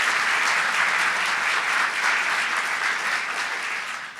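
Crowd at a New York gubernatorial inauguration in Buffalo applauds local leaders, a sustained, even roar of clapping throughout that slowly fades near the close.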